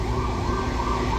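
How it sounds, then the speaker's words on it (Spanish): An ambulance siren wails loud and close at a city construction site where a tower crane is lifting panels, steady and continuous throughout. "dejen pasar a la ambulancia, hombre."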